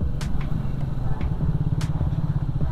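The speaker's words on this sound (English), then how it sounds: "Look, I am crossing the speed bump at 4th gear without engine knocking, and I have completely let off the clutch at 20 kmph." A Triumph Speed 400 motorcycle rolls slowly in fourth gear at about 20 km/h over a speed bump, its single-cylinder engine thumping in a steady low pulse close by, with a few light clicks and clatters.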